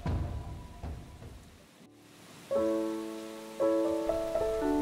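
Rain and a thunderstorm in an animated Bengali horror cartoon: a soft wash of rain fades out, then musical tones enter in two swelling stabs over a quiet bed.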